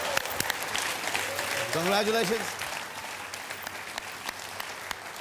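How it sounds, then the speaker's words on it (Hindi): Studio audience applause on a Hindi television chat show, a steady dense clapping bed lasting several seconds, with a brief voice speaking over it partway through. "तालियां, सुपर,"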